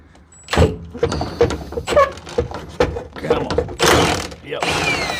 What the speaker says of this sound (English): Let me just see if I can get these other strap bolts loose.